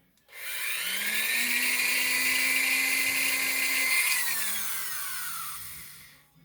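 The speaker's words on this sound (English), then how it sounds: "Well, luckily I got my Dremel tool." A Dremel rotary tool cleans an old Camillus knife blade, spinning up to a loud, close, high whine that holds steady, shifts pitch as it presses into the metal, then winds down.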